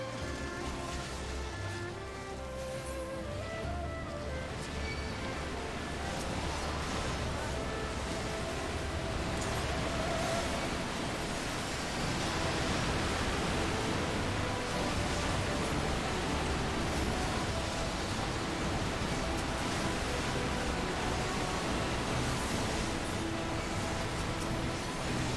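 Rushing water effect from the Final Fantasy XIV game, a steady, dense hiss that runs unbroken throughout at fairly high level, with faint game music tones underneath.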